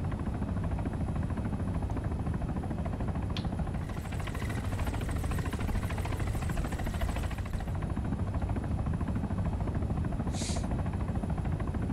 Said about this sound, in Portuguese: Tem helicóptero aqui à direita, hein, cara.